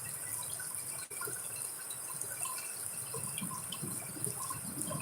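Rainwater falls and trickles steadily, a soft, continuous wash of water, close and fairly faint, with an occasional drip and no voices.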